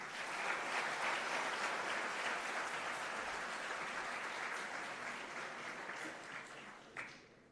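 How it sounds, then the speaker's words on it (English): A large audience gives a sustained round of applause at a leadership talk, an even, full wash of clapping that holds steady, then thins out near the end with a single sharper clap. "May we have another round of applause?"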